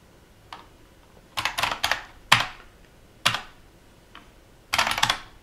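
Keys on a computer keyboard are typed in short clustered bursts with pauses between them, close and clear with no talking, while a command is entered on a quad-core ARM v7 Raspberry Pi running Commodore 128 Z80 emulation.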